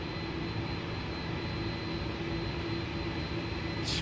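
An MD11 cargo jet runs up its engines on the runway, producing a steady, dense roar with a faint whine, heard at moderate level from the cockpit without pauses or voices.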